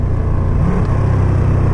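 A 2020 Ducati Panigale V2 sport motorcycle engine runs close by at low revs, a steady deep throbbing rumble with a brief gentle rise in pitch partway through, and no voices.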